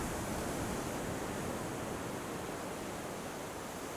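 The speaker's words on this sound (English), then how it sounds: "The waves crash right up against the coral." Steady, dense roar of surf waves crashing against coral at a rugged ocean surf break, a continuous loud wash with no distinct individual breaks and no voices.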